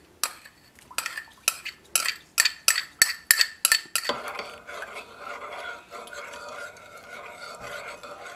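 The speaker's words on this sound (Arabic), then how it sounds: "فأول حاجة نخلط النشادر مع اللبن" A spoon stirs baking ammonia into milk for Sudanese biscuits, striking the bowl in about eight sharp, evenly spaced clinks before settling into softer continuous scraping and swirling, close up with no talking.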